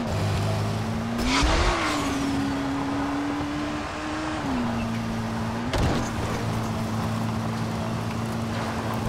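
In-game car from Dying Light: The Following driving uphill on a track: steady engine drone that rises and dips in pitch with throttle changes, plus a couple of brief thumps and bumps, loud and close with no talk.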